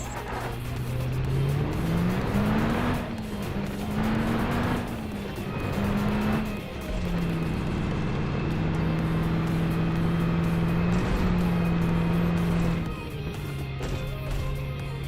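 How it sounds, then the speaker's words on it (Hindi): Vehicle engine in PUBG Mobile, a steady loud drone rising and falling in pitch as the car accelerates and shifts, with brief tire squeal, continuous for the whole stretch and without speech. "अब आता हूँ भाई मैं इधर गाड़ी ले लेके।"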